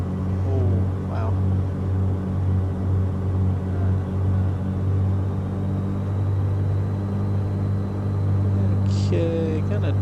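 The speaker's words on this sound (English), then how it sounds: "because this plane's a noisy plane" A Black Square Duke propeller plane engine in Microsoft Flight Simulator 2020 drones loudly and evenly throughout, a constant low hum with a few brief faint sounds on top.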